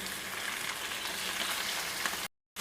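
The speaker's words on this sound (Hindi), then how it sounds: "3 से 4 मिनट हम कलेजी को फ्राई करेंगे" Kaleji (liver) fries in a pan, giving a steady, dense hiss of close-up sizzling that runs without a break and cuts off into silence near the end.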